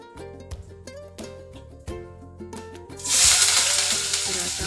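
Mustard seeds and cumin dropped into hot frying oil burst into a loud, close sizzle partway through, following a stretch of clinking kitchen sounds over a background hum.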